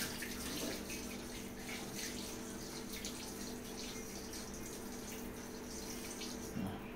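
Tap water runs steadily into a sink as a child washes hands, a faint continuous hiss and trickle throughout with no talking.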